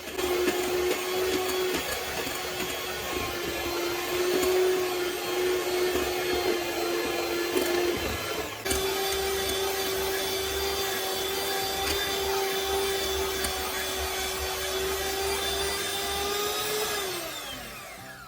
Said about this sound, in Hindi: इन सबको अच्छे से मिक्स करके स्मूथ बैटर बनाना है। बैटर स्मूथ होने तक मिक्स करते रहना है।